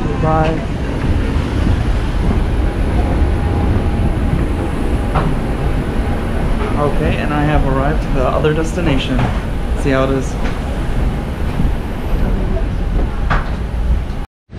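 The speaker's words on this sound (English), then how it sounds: "Taking the train from the airport to the city center, KL Central." An airport rail link train ride to KL Central in Kuala Lumpur, Malaysia, with a steady loud rolling rumble and faint clicks throughout. Someone talks over the train noise.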